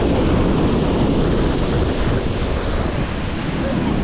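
Steady roar of surf breaking on an open beach, loud and continuous with wind buffeting the microphone, heard during slug casting from the sand.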